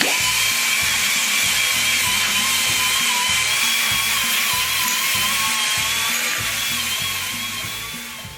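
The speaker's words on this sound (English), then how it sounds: "Skins, I got the tool set up with the barrel sander for you." A barrel sander fitted to a rotary tool grinds rust out of a part with a high, steady whine and a rhythmic lower chatter, loud and close, easing off slightly at the end.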